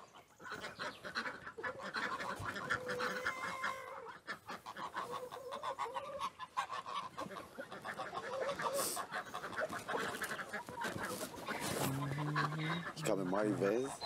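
Hens cluck and call steadily on a farm, with other fowl sounding close by throughout, and people talk in between.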